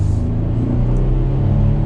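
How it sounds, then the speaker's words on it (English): Gibson exhaust on a 2021 Chevrolet Colorado Z71 Rocky Ridge K2 pickup: a loud, deep, steady rumble close by, swelling slightly as if revved lightly, with no talking. "we'll go ahead and hear that Gibson exhaust"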